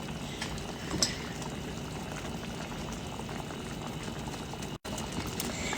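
Southern tomato gravy simmers in a pan with a steady, quiet bubbling that goes on throughout and stops for a brief moment near the end.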